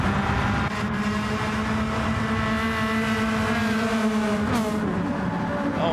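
Race car engines in a classic-car sim race, including a growly little machine: a steady, loud engine drone with revving harmonics that shift up and down, and a brief gear-change blip near the end.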